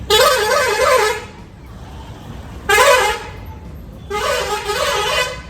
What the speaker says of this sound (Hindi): इसको बजाने दो हॉर्न जितना बजाना है।